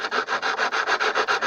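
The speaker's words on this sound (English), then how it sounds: "Sandpaper on a tongue depressor." Sandpaper wrapped on a tongue depressor sanding a wooden wing rib, a close, rhythmic back-and-forth rasping of about ten quick strokes, alone with no voices.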